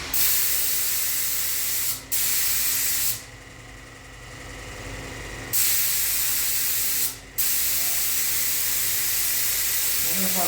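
Platinum lacquer sprays from a spray gun in steady, loud hissing bursts, with short pauses between passes and one longer break in the middle.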